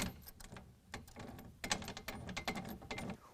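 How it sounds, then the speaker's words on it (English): Close, quiet mechanical clicking and ratcheting as an Allen head bolt is tightened into a threaded block while fitting a tonneau cover on a 2020 Jeep Gladiator, in short irregular bursts with no talking. "we are going to get that tightened down into that block"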